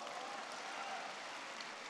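A theatre audience at a crosstalk comedy show applauds, a dense and steady clatter of clapping that sounds distant and faint and lasts throughout.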